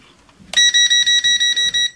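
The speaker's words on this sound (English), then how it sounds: "it does make it a really annoying beeping noise" A rapid series of about eight high-pitched electronic beeps from a folding GPS camera drone's controller, loud and close, evenly spaced in a steady pulsing rhythm after a brief quiet moment.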